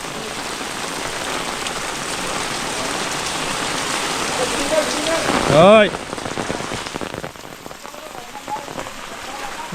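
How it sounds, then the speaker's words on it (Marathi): A heavy Konkan downpour hisses steadily and loudly nearby, with a short spoken reply midway before the rain noise eases slightly for the rest. "पाऊस जोरात आहे."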